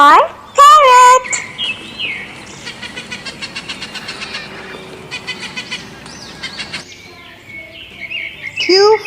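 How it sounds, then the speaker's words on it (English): A parrot squawks and whistles with bright, chirping calls and trills, loud and close, some sharp cries at the start and end. "P for parrot."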